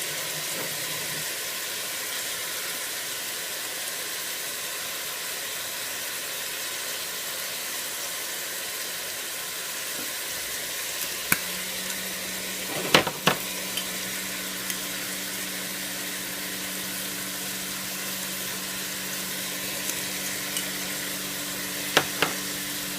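Vegetables for chicken and poblano pepper soup sizzle steadily in a hot pan, a continuous soft frying hiss with a few faint clinks of stirring near the end.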